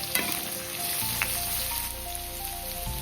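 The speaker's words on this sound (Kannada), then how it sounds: "ಈಗ ಮತ್ತೆ ಈರುಳ್ಳಿ ಸಾಫ್ಟ್ ಆಗೋವರೆಗೂ ಇನ್ನೊಂದು ಸ್ವಲ್ಪ ಫ್ರೈ ಮಾಡ್ಕೊಳ್ತಾ ಹೋಗೋಣ." Onions and garlic frying in a pan for a radish chutney, a dense continuous sizzle and crackle, close and fairly loud, with no talk.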